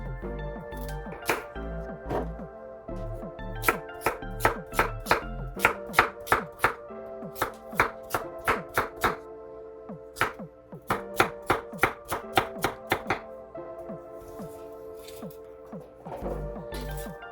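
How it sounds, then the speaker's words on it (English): Carrots chopped with a knife on a cutting board for butternut squash soup, with quick bursts of crisp, rhythmic thuds separated by short pauses. "Next, I'm going to chop my carrots, and it doesn't have to be in any particular order, just chopped."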